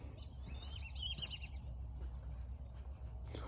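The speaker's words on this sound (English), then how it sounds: "Birds." Birds chirp outdoors in a quick burst of bright, repeated tweets, followed by a few fainter calls over a low background rumble.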